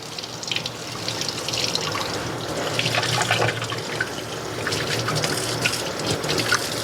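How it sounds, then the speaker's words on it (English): Cold tap water runs steadily while cyanotype-printed fabric is rinsed under it, a close, continuous splashing and trickling with small surges and no talking. "so I'm just rinsing wherever there is green"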